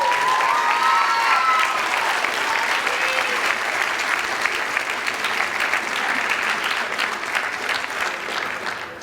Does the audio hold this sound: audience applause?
yes